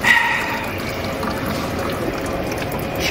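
Fuel contaminated with water drains from a 2018 GMC Sierra K2500 HD with a 6.6L L5P diesel engine, a steady close splashing pour running throughout with no talk.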